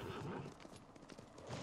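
Horse hooves clip-clop across the ground in the video game Ghost of Tsushima, a quick, even run of soft thuds heard fairly close through the short stretch.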